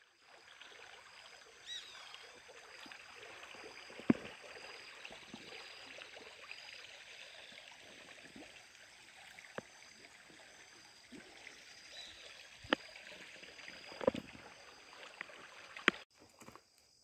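The Catolezinho river flows by in a steady, soft wash of water with faint trickling, and a few sharp clicks and taps break through near the start and end; no one speaks.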